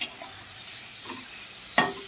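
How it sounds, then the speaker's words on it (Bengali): Flat beans and potatoes fry in a pan with a faint sizzle, broken by a short clatter of a spatula at the start and another sharp scrape near the end. "ছিম ভাজা করেছি আর এখানে পেঁয়াজ কলি আলু ভাজা বসিয়েছি"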